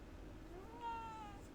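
A single short, clear cat meow rising then falling, heard in the Revenge of the Savage Planet video game over a low background hum.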